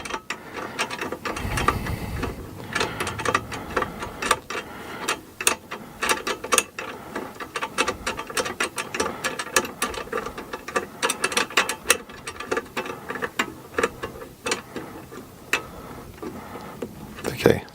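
Close, irregular clicking and ratcheting accompany a screw being tightened during assembly of a Geeetech aluminum Prusa I3 3D printer, with repeated sharp mechanical ticks over low background noise.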